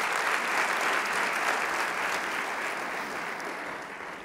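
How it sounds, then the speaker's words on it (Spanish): A church congregation gives sustained, dense applause, a full even wash of many hands clapping that fades slightly toward the end. "Y le damos un aplauso al Rey de Reyes"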